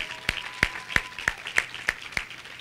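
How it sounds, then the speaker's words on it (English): Applause at a university panel discussion heard as sparse, evenly spaced claps, about eight sharp, fairly close hand claps in a steady rhythm over a quiet background. "Everybody give them a round of applause."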